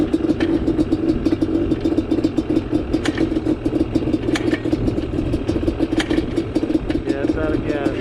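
A Yamaha Banshee motorcycle out of gas, its engine chugging and clattering in an uneven, sputtering idle at close range, loud and continuous with faint voices in the background.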